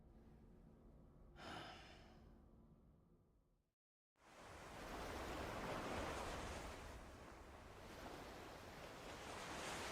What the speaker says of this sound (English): Oh, the beach.